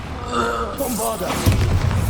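Bombarda blasting spell in Hogwarts Legacy: a voice calls out over the game audio, then a deep rumbling boom erupts and rolls on loudly to the end of the short burst.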